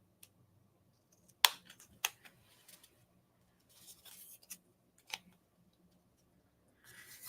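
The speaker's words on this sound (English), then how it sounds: "Just going to trim a little bit more off here." Scissors snipping paper while trimming a handmade autumn pocket card with paper roses: a few short, sharp cuts at close range, with faint handling rustles in between.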